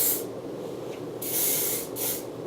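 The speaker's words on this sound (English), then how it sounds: "I like this Bumble because it's hairspray, but it's lightweight" Bumble hairspray misted onto curled hair, three short hissing bursts from the aerosol can, close and crisp with brief pauses between them.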